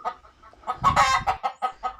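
Country chickens clucking close by, a run of short repeated clucks with one louder, busier burst in the middle, no talking.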